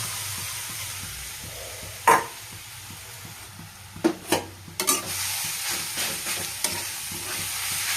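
Coconut paste frying in hot ghee in a kadai, with a steady soft sizzle and a few louder scraping stirs of a spoon against the pan.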